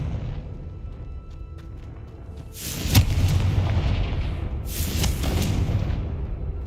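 In the video game Hogwarts Legacy, a Confringo spell sets off an explosion: a sharp boom followed by a long roaring burst and then a second rushing blast, loud against a steady game-ambience background.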